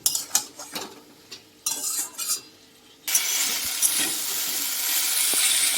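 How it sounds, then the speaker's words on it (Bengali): Spice masala for a fig curry being stirred in a pan: scattered spoon scrapes and clinks at first, then a sudden loud, steady sizzle takes over as the masala fries. "মশলাটা ভালো করে কষানো হয়ে গেছে"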